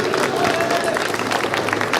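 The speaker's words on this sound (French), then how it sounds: "Alors, on peut l'applaudir, s'il vous plaît." An audience at a cosplay show applauds a cosplayer coming on stage: a dense patter of many hands clapping at once, fairly close and lively, with a voice talking over part of it.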